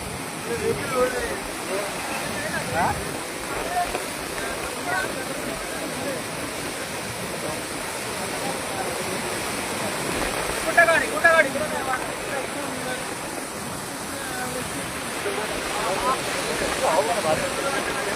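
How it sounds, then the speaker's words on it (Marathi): Pressurised water gushes below a dam near Mahabaleshwar hill station, a steady broadband roar close by that runs throughout the clip, with voices heard faintly under it. "एवढं प्रेशर पाणी येते बघा ना, पाणी वर आहे."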